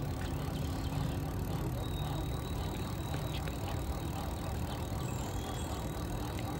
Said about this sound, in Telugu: సో ఇప్పుడు నేను థ్రాటిల్ ఇవ్వకపోయినా కానీ మనకి టైర్ అనేది మూమెంట్ ఉంటూనే ఉంటుంది